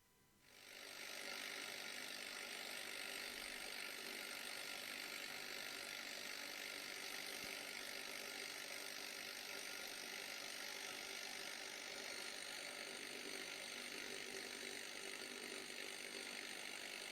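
An automated grinding machine steadily processes a stream of small parts, giving a continuous broadband hiss and rasp of abrasive contact that holds even and loud from start to finish after a brief quieter opening.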